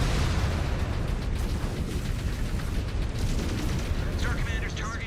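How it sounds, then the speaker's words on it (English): Missiles slam into a mech in the MechWarrior video game, a dense sustained barrage of explosive bursts and booming impacts, loud and continuous, with a voice talking over it. "That was a lot of missiles into me there."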